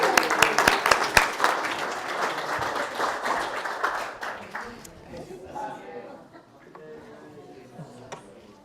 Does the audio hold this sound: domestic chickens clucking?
no